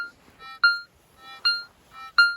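Three loud electronic target tones from a metal detector, each a sharp rising beep with a bright harmonic ring, repeating about every three-quarters of a second.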